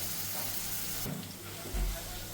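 Ginger and garlic fry in a pan, giving a steady soft sizzle with a brief clatter of stirring partway through.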